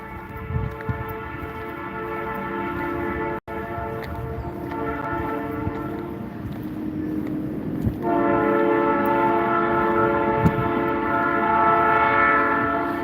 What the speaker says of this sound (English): the whole town hears the train